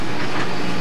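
A zoo safari train rolls along with a loud, steady broadband rumble and rushing noise, close and unbroken for the whole moment.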